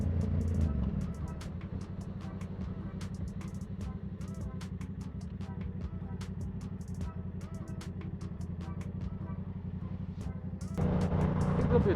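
A Yamaha R7 motorcycle rides along a highway with a steady low engine drone and wind rumble throughout. The engine swells louder near the end, and a rider's voice comes through intermittently.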